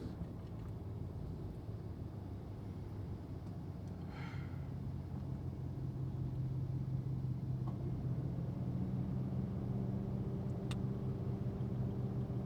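A car drives along a road toward Oxford, Ohio, a steady low engine and road rumble filling the cabin with faint wind noise, unbroken throughout and without talk.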